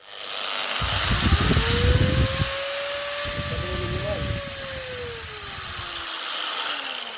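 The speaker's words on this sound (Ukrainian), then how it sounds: "Я тисну болгарку. Це не то, що вона, дивіться, я вам включу максимальні обороти." A Vitals angle grinder spins up to maximum speed, a steady high electric whine that holds for several seconds with a couple of brief dips in load, with no talk over it.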